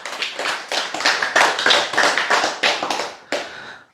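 Audience applause at a religious sermon, a burst of quick, sharp handclaps lasting a few seconds, fairly close and loud with no talking over it.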